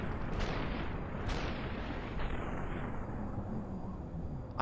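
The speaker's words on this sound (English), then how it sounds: "He's got a machine gun." Machine gun fire in the video game SUPERHOT comes as dense, loud bursts of booming shots over a thick rumbling wash, with a few sharper bursts standing out.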